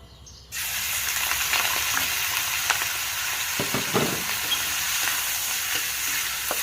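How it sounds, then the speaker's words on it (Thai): Chopped duck sizzles steadily in a hot pan, with occasional scraping and tossing as it's stir-fried for a Thai duck dish. "แล้วก็เอามันรวนเลย"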